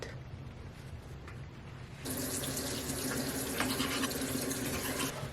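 A bathroom tap runs as someone wets their face; after a quiet start, the water switches on and flows steadily into the sink, close and fairly loud.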